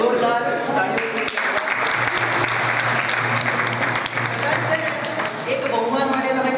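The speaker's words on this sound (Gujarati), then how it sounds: "જોરદાર તાળીઓ." Audience applause at a Kutch Gurjar Jain community gathering, a loud dense burst of many hands clapping that fills the whole span evenly, with a voice heard faintly underneath.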